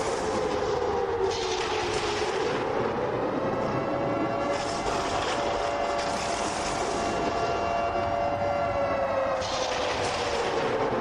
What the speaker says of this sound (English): Let the siren play for the first time tonight.